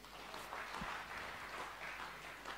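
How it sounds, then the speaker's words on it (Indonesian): Congregation applauding during a church service in Indonesia, a soft, distant wash of clapping that swells and fades over a couple of seconds. "Yang setuju tepuk tangan buat Allah kita."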